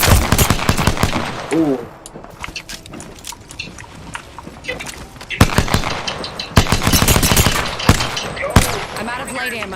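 Video game shootout with loud automatic gunfire, bursts of rapid shots close by, dropping briefly then resuming in heavy volleys, under excited talk.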